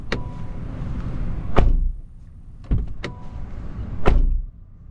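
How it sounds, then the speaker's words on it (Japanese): Doors of a Honda N-BOX Custom Turbo being shut: three solid thuds with a slight hollow, resonant ring, spaced over a few seconds against a low steady background hum, close by. "それではドア閉めた音聞いてみましょ"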